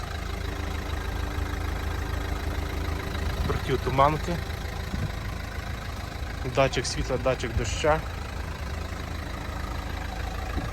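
Steady low rumble of a Renault Laguna 1.5 dCi diesel engine idling throughout, with someone talking over it.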